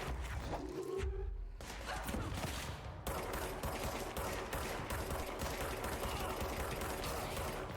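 Gunfire in the video game Control: rapid bursts of automatic shots, a short break, then a long dense stream of repeated shots, loud and close.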